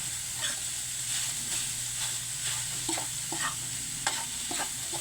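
Shrimp hit a hot frying pan while ginataang langka is being cooked, giving a soft continuous sizzle with scraping stirring strokes at a moderate, steady level.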